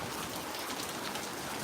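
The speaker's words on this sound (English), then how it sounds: "Raining pretty bad out here." Heavy rain pours down on a stormy night, a dense, even roar of drops hitting surfaces, loud and unbroken for the whole moment with no voices.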